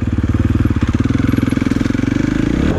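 KTM 450 SXF four-stroke motorcycle engine running on a test ride, a close, loud steady throb with rapid pulsing firing beats that rise slightly in pitch toward the end as the throttle opens.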